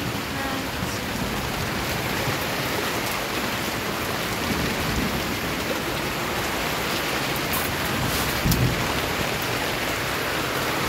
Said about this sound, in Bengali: বিশাল বৃষ্টি হচ্ছে